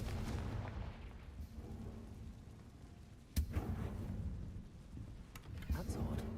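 A Confringo fire-blast spell bursts in Hogwarts Legacy, a sharp booming impact cutting through a low rumbling game ambience, followed by smaller crackles and thuds.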